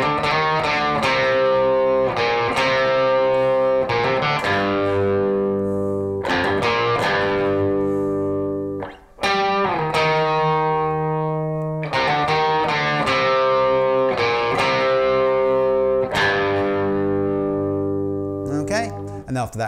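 An electric guitar plays the pre-chorus riff of a song through a distorted tone, with loud sustained chords and notes broken by brief gaps.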